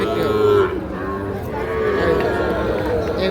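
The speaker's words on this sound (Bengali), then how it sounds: "এগুলো কিন্তু সব ষাঁড় বাচ্চা।" Young bull calves at a cattle market, one calf giving a loud, drawn-out moo up close, followed by low lowing amid background murmur of the market crowd.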